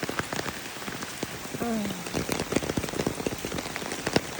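Heavy rain pours down steadily during flash flooding in Atlanta, a dense close patter drumming on surfaces throughout, with a brief exclamation from a person partway in.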